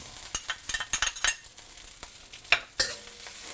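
Onions go into a hot wok of pineapple fried rice with egg, sizzling loudly while a spatula scrapes and tosses them in quick irregular strokes, close and clear with no voice.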